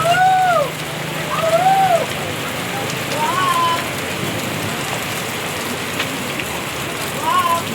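Steady heavy rain pours down in a dense, continuous hiss over a downtown market area, with a few brief voices rising over it now and then.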